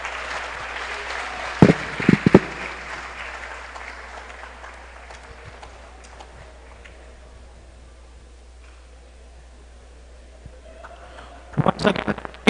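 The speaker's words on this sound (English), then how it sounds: "Once again, give a round of applause for Dr. Jean Paulette Salalimago." Applause at a graduation ceremony, a crowd clapping that swells near the start, fades away to near quiet, then rises again in a fresh burst at the end.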